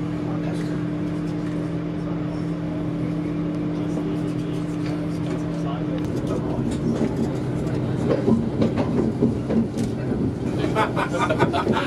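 Steady low rumble and hum inside an LNER Azuma passenger train carriage in motion, with rattles and clicks growing busier toward the end.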